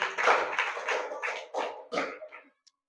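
Studio audience clapping after a correct answer in a Hindi general-knowledge quiz, a short burst of several claps that fades out after about two and a half seconds.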